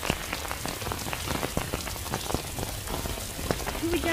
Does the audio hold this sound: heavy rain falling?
yes